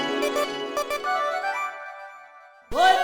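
A mobile phone ringtone plays a melodic electronic tune that fades out, then after a short silence a new, louder burst of ringing tone starts abruptly, with no talking over it.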